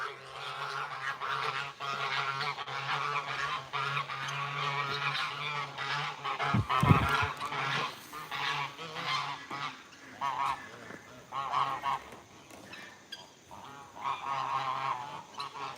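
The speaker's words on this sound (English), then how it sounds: "Let me finish feeding the geese" Geese honk repeatedly at an animal sanctuary during feeding, a loud overlapping flock chorus with one sharp thump partway through and steady outdoor background.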